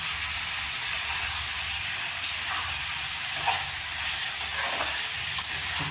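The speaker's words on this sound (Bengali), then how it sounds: "চটজলদি ফ্রাই হোক," Ingredients for angara paneer frying in a pan, a steady loud sizzle with occasional crackles and stirring clinks, close-up and uninterrupted by speech.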